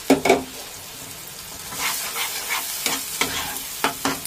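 Poppy seed, mustard, cashew and green chilli paste hits hot oil in a pan for a Bengali potol posto dish, giving a loud burst of sizzling at first, then a steady fry with intermittent stirring scrapes, no voices.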